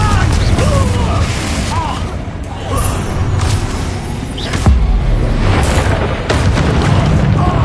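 Fire spell explosions from Confringo in the Hogwarts Legacy video game: repeated loud booms and bursts, spaced irregularly, over a constant dense layer of combat noise and effects.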